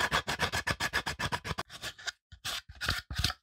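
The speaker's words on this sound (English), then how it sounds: "we need to refine them, remove the support material, clean up the rough edges" Rough edges on a 3D-printed plastic fan blade being scraped and filed clean, heard as a close, rapid series of rhythmic rasping strokes that thin into a few separate scratches near the end, with nobody talking.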